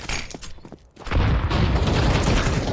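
Video game gunfire: after a brief lull, a sustained burst of rapid shots and booming impacts erupts, loud and continuous, with no talk over it.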